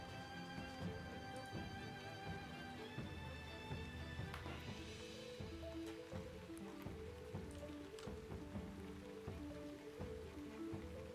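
Steady rain pours in the video game Shroud of the Avatar, a dense, even hiss of drops on surfaces that carries on unbroken throughout, with faint tonal game music woven underneath.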